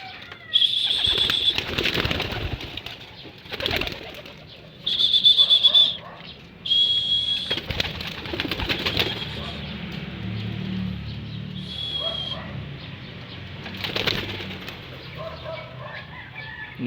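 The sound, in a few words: pigeons taking flight, flapping wings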